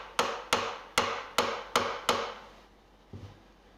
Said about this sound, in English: you just tap it down with the butt of the chisel there